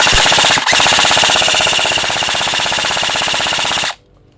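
A red Delta D039 PDW airsoft gun fires on full auto: one loud, close, continuous burst of rapid mechanical cracks lasting a few seconds, then it stops abruptly into near silence.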